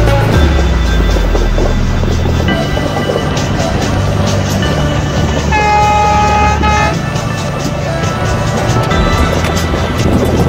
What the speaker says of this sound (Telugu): సో ట్రైన్ కరువు చూస్తున్నారా ఎట్లా తిరుగుతుందో